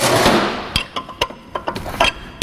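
Hammer taps on the front wheel hub nut of a 1981 MGB GT, a left-hand thread nut with a spanner on it: a quick series of about eight sharp metallic knocks at an uneven pace, close by, after a brief opening rustle.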